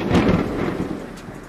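Thunder rumbles loudly with rain falling steadily, a short stormy sound effect with no voices over it.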